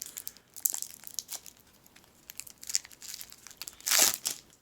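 Plastic shrink-wrap pulled off a Cartographers Heroes board game box, crinkling and tearing in close, uneven bursts with a louder rip near the end, no talk.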